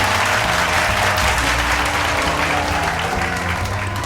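A studio crowd applauds a show host as he walks out, a dense, steady wash of clapping and cheering that stays loud and continuous from start to finish.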